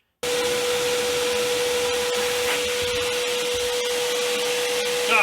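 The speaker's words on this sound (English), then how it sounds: "I use the shop vac to suck some strings through the ports" A shop vac draws strings through the ports of a dual-quad carburetor setup on a 429/460 engine, giving a loud, steady whine with a constant hum that starts abruptly and runs unbroken.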